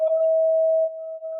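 A single steady electronic tone, pure and mid-pitched, holding for about a second before dropping slightly in loudness.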